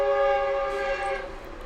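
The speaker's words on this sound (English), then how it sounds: "here comes the train early in the morning." A train passes close by the tracks in the early morning, its loud, sustained multi-tone horn blaring for the whole moment and fading slightly at the end.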